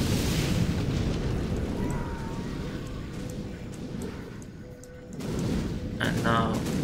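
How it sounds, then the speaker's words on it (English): Artillery explosions in a Command & Conquer Generals Zero Hour match, a dense rumbling barrage of booms that swells loud at the start, eases off in the middle and surges again near the end, with game effects layered over it. "Artillery is coming here."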